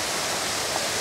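Waterfall along the Wildwood hiking trail in Thousand Oaks, a dense steady rushing roar of falling water, close and loud for the whole moment.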